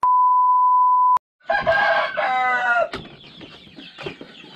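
A flat electronic tone cuts off abruptly, then several free-range village chickens cluck and squawk close by in a busy, overlapping chorus.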